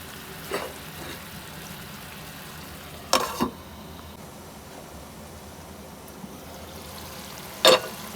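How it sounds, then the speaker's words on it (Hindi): Chicken and masala fry in a covered pot on a medium flame, a soft continuous sizzle with a few brief louder crackles and clinks, no voices. "10 मिनट के लिए हम इसको ढक देते हैं मीडियम आंच पे, ताकि चिकन भी गल जाए और तमाम मसाला ये जो है अच्छी तरह भुन जाए"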